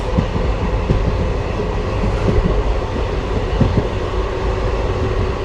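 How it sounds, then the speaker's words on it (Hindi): The Sutlej Express, running from Ferozepur to Chandigarh, travels at good speed with a loud, steady rumble and a rhythmic clickety-clack of wheels over rail joints. "अच्छी रफ्तार के साथ बढ़ती हुई सतलुज एक्सप्रेस।"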